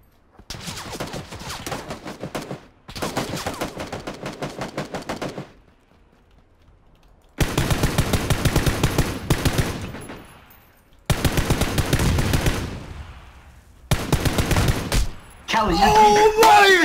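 Gunfire in the video game PUBG: loud, rapid automatic bursts come in about five separate volleys divided by short silences, with a brighter, tonal burst of sound at the very end.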